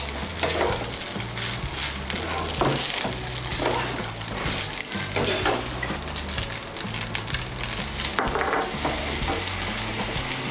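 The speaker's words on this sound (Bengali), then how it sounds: "নুনটা ভালো করে মিশিয়ে নেব।" A lemon recipe mixture being stirred with salt, a steady scraping and clinking of a utensil in a bowl running continuously over a low background hum, close and moderately loud, with no talking.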